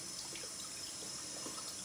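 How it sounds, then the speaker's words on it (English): Water runs steadily from a tap as a badger shaving brush is rinsed under it, making a soft, even splashing wash at low level throughout. "Just rinsing the brush out."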